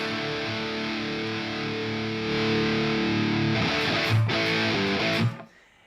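Distorted electric guitar played through a Quad Cortex capture with a rock reverb effect, sustained buzzy chords ringing out for several seconds before a short strummed burst and an abrupt cut to quiet.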